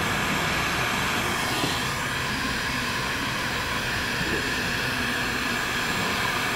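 A hair dryer, used to shrink window tint, warming up with a loud, constant close-up whooshing blower roar that holds steady throughout with no talk.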